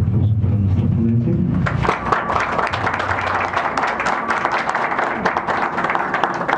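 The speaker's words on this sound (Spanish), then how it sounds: "Pues entonces les pido un fuerte aplauso para nuestro ponente." An audience at a clinic talk on abnormal uterine bleeding breaks into steady applause that begins shortly after the start and continues loudly to the end.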